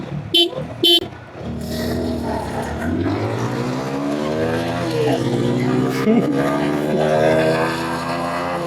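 A GPX Demon motorcycle horn gives three short honks on a bike race strip, then the engine revs up and roars steadily nearby, rising and falling in pitch.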